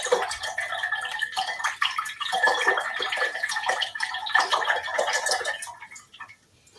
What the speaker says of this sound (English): Okay, rinse your brush.